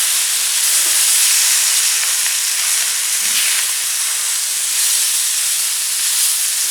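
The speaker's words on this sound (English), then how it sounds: "Give that a quick stir." Vegetable paella frying in a pan, a steady loud hiss and sizzle throughout, with faint scraping as it gets a quick stir.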